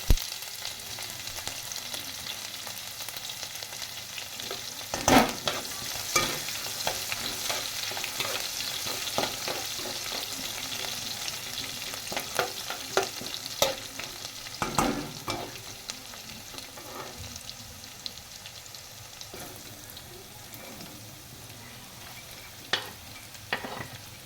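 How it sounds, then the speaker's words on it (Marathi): Peanuts and chilli pieces fry in oil in a pan for poha, giving a soft continuous sizzle with occasional sharp scrapes and clinks of the spoon against the pan. "आता आपण त्याच्यामध्ये ॲड करतो मिरचीचे तुकडे."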